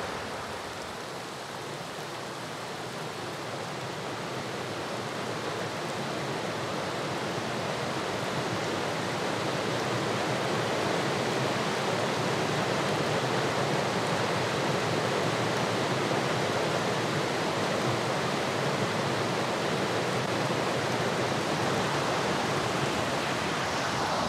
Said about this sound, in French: Je ne sais pas si cette pluie s'arrêtera un jour, mais en tout cas, le niveau des rivières a atteint son maximum.